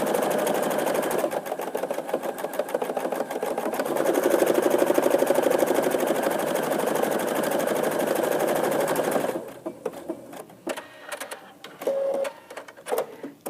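A Creative Sensation Pro sewing machine stitches a zigzag buttonhole in reverse, a fast, loud, even mechanical rattle that runs steadily, then gives way to a quieter stretch of lighter clicks and brief whirs.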